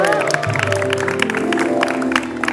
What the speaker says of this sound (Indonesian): Tepuk tangan dong buat Mbak Ira